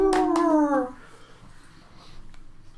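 People playing a Werewolf the Apocalypse tabletop game imitating wolf howls with their voices, a brief loud rising howl close by that fades out, then a quiet stretch with low murmuring.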